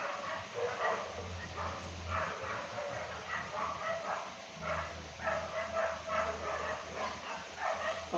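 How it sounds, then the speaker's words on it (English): Several dogs bark in repeated bursts outdoors, fairly close, over a steady background hum, with short pauses between volleys throughout. "The dogs are here barking."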